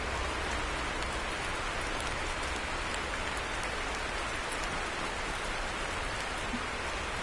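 Steady rain in a trucking video game, a dense even hiss of falling drops that holds at the same level from start to end with no voices.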